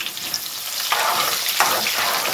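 Onions sizzle steadily in a hot pot for rice, a continuous close frying hiss that swells briefly as they are stirred or tossed, with no one talking.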